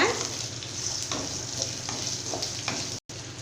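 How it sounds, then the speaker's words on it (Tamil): Horse gram chutney ingredients sizzle steadily in a hot pan while being stirred, a continuous close frying hiss with faint scraping strokes and no talk. "இப்போ நல்லா எல்லாத்தையும் நம்ம வதக்கிக்கலாங்க"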